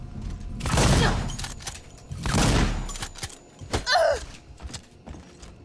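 Gunfire in the survival horror game Alien Isolation: two loud, extended bursts of shots about two seconds apart, followed by mechanical clanks, creaks and a brief sharp sweep as things settle.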